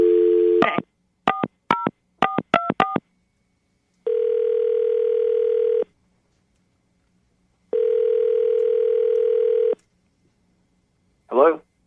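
A rapid series of telephone keypad tones, then two long steady ringing tones separated by silence, and a brief voice at the end.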